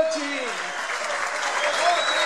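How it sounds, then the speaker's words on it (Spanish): A crowd at a comedy show claps in a dense, sustained burst of applause with whoops and voices mixed in, loud and close throughout. "Fuerte el aplauso para Cochi"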